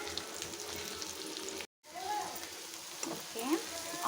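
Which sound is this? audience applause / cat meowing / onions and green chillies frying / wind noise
onions and green chillies frying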